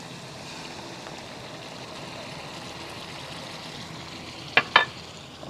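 Masala frying in a pan just after yogurt is added, for aloo arbi, giving a soft steady sizzle throughout with a couple of sharp clinks of a utensil near the end.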